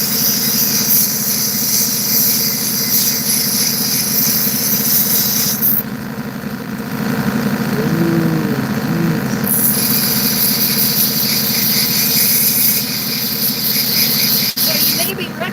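A tough grinding wheel shaping opals, giving a loud, continuous high-pitched whine and rasp with a few drops in pitch as the stone is pressed against it, with a voice talking briefly over it midway.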